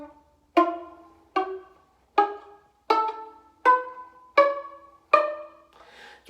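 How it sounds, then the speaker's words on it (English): A violin played pizzicato, its strings plucked with a finger, produces eight separate plucked notes at an even, unhurried pace, each ringing briefly and fading, close and fairly quiet with nothing else in the background. "you are going to learn to play it pizzicato"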